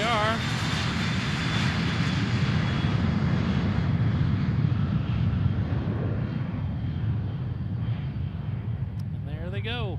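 A Citation XLS private jet departs Boeing Field with a loud, sustained jet roar and rumble, whining engine tones sweeping near the end, while people talk over it.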